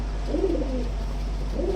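Fancy pigeons coo inside a breeding loft in Namkhana, South 24 Parganas, giving two soft, rolling coo phrases close by over a steady low background hum.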